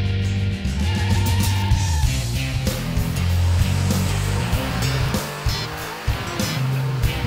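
Ford EcoBoost engine running on a test stand, a loud sustained roar with pulsing low-end rhythm that swells and drops as it revs, filling the whole stretch.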